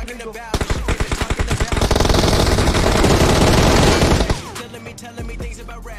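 Rapid automatic gunfire from a battle royale video game, loud bursts of machine-gun fire building into a dense continuous volley, then breaking off with a few scattered shots.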